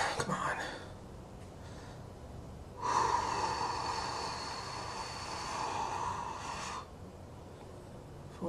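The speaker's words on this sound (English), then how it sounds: "the idea is to control your breathing by your tummy and not by your chest." A single long, controlled breath, drawn slowly from the belly, hisses close to the microphone for about four seconds in a quiet room during morning voice practice. A shorter, fainter breath comes just before it.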